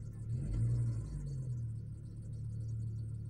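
A truck engine idling just after start-up, a low steady rumble with a brief swell in the first second, alone with no voices.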